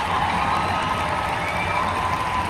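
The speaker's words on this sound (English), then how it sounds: "Listen to this disgusting applause." A played-back crowd roars with steady applause and cheering, a dense continuous wash of clapping and shouting that stays loud and even throughout without a break, no single voice standing out.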